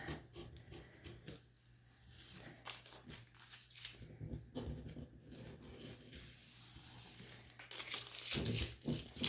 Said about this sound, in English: So I'm just going to tape the back so I can take the front tape off.